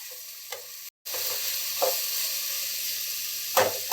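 Onions frying in a pan for a Telugu ridge gourd, chana dal and tomato curry: a soft, even sizzle with a short gap, then a few scraping stirs of a spoon against the pan.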